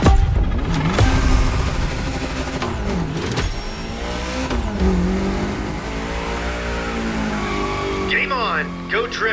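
A Lancer Evo X drifting in the video game The Crew Motorfest, its engine revving up and down in sweeping pitches with tire squeal, heard loud and close while a voice talks over it.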